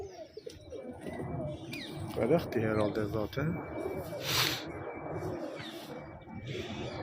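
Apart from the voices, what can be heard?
pigeons cooing outside in the sun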